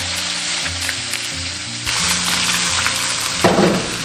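Crucian carp bones and head fry in hot oil in an iron wok, a close, steady crackling sizzle that briefly flares louder near the end.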